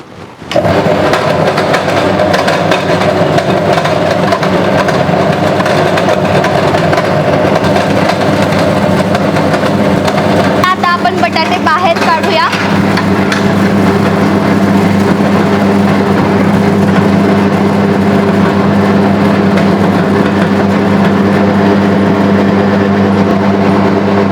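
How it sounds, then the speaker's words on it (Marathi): A potato peeler and chip-cutting machine runs continuously, a loud, steady mechanical drone with a humming tone, and a brief rattling patch partway through as potatoes are processed. "मशीनचं नाव आहे पिल्लर मशीन यामधून आपण आपले बटाटे सोलून घेऊयात"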